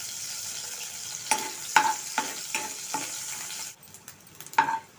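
Dried prawns fry in a pan until reddened, a bright sizzle broken by several crisp spatula scrapes and stirs, fading quieter briefly before one last scrape.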